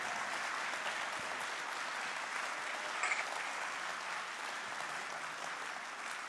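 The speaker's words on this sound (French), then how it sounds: "Vous pouvez applaudir." Sustained applause from a festival audience, dense and steady for the whole stretch with no voices breaking through.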